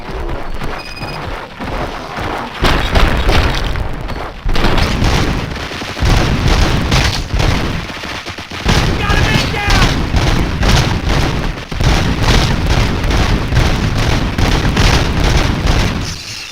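Heavy gunfire erupts in a RoboCop battle at a station, loud and close, with booming blasts and dense rattling bursts sustained over many seconds, and voices heard amid the barrage.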